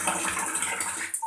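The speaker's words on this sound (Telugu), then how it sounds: "మంచిగా ట్యాప్లో నుంచి ఇలా బకెట్లో పడితే ఇలా బకెట్ నిండే వరకు ఉంచేసుకొని" Hot water from an instant mini geyser tap pours steadily into a bucket, a close, continuous gushing splash that cuts off abruptly near the end.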